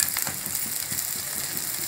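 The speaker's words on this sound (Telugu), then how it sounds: "ఈ విధంగా కొంచెం ఉల్లిగడ్డ వేగినట్టు కావాలి" Onion frying in a pan, a steady close hiss of sizzling oil with faint stirring scrapes throughout, no voices.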